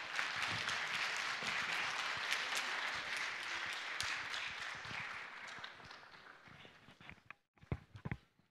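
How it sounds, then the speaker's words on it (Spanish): A church congregation at a united Sunday service in La Paz applauds in a dense, sustained roar of clapping, which fades near the end into a few scattered claps and footsteps. "Vamos a invitar con fuertes aplausos."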